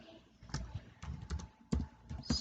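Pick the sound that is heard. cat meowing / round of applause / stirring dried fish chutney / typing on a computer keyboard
typing on a computer keyboard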